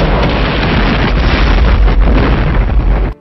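Loud, continuous explosion rumble from a film scene of a bombing raid on a power plant in Vietnam, a dense roaring blast that fills the clip for about three seconds and then cuts off abruptly.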